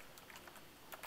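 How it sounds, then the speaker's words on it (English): Quiet keystrokes tapped on a computer keyboard during a coding session, a few soft scattered clicks spread irregularly over about a second, faint and with no voices. "I'm gonna type all that stuff out"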